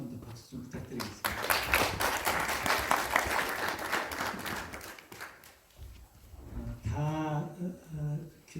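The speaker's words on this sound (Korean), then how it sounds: "김상원 교수님께 한 번만 더 박수 좀 부탁드리겠습니다." An audience applauds a professor at an evening policy debate forum: dense, loud clapping builds after a second and runs for about four seconds, fades, then a voice speaks over the room.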